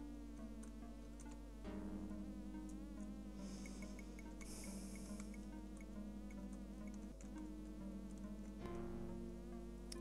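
A fly buzzes steadily in the video game Space Quest 5: The Next Mutation, a continuous insect drone layered with the game's music for about ten seconds, with no talking.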